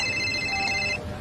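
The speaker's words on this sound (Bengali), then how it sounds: "এই সময় বউ হঠাৎ ফোন করলো কেন?" A telephone rings with an incoming call, a short electronic ringtone with steady high tones that stops partway through, sounding close and fairly loud in a quiet room.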